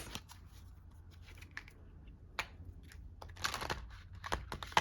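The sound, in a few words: shuffling tarot cards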